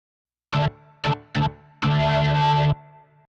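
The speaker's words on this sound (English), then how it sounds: "It's kind of a distorted organ." Distorted organ keyboard patch with chorus effect: three short stabs followed by one long sustained chord, loud and gritty, trailing off into a brief echo.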